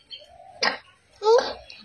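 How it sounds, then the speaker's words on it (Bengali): A child's cough, two short harsh bursts close by with a faint voiced sound in between, quiet overall. "কাশি খুব হচ্ছে, তাড়াতাড়ি ডাক্তারখানায় যাও।"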